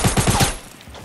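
Rapid burst of four or five shotgun blasts in Fortnite battle royale solo play, loud and close, evenly spaced and fading into quiet game ambience afterward.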